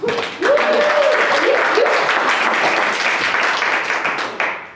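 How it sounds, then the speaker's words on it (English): An audience bursts into sustained applause, loud and dense, starting abruptly and holding steady for several seconds before tapering slightly, with a brief voice heard early on. "So let's give her a round of applause."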